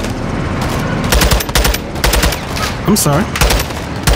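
Bursts of automatic gunfire in Call of Duty Modern Warfare 2 (2022), loud close volleys in quick clusters, with someone briefly talking between the shots.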